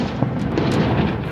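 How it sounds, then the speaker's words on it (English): Intense gunfire exchanged between Taliban fighters and resistance forces in Panjshir, a dense, continuous rumble of overlapping shots and booms. "Intense firing between Taliban fighters and resistance."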